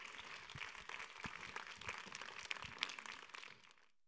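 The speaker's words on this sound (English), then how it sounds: "Please give Jonathan a round of applause" A concert audience gives dense, sustained applause for a young singer, steady and fairly close before fading out at the end.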